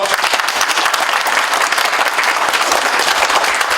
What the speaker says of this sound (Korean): 연단으로 나오실 때 큰 박수로 환영해 주시기 바랍니다